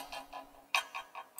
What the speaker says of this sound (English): I have like a clock ticking sound right here